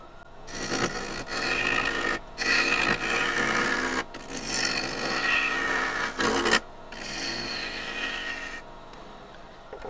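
A woodturning tool cuts into a spinning tenon of wet wood on a lathe, giving a harsh scraping, rasping hiss in several bursts separated by short pauses, close and fairly loud.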